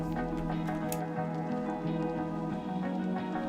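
Yeast is stirred into warm water in a bowl, giving soft, wet squishing and dripping sounds over a steady low hum, close and quiet, with no talking.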